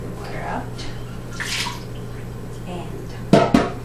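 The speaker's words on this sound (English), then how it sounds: "Throw the water out." Water tipped out of an orchid pot after marbles and stones are removed, a short splashy gush near the end, two quick pours close by over a steady low hum with soft handling noises before.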